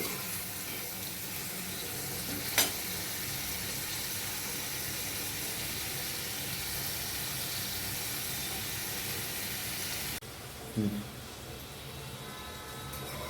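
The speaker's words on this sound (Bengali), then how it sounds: "একটু হালকা করে ভেজেই আমি তুলে নিচ্ছি" Steady loud sizzling and hiss of shrimp frying in hot oil, continuous throughout, with a brief clink of a utensil near the end.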